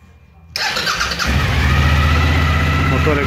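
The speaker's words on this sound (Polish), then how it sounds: "Ciekawe czy nam się motorek odezwie." A Suzuki DL1000 V-Strom motorcycle engine cranks briefly after a moment of quiet, then catches and settles into a loud, steady idle close to the listener.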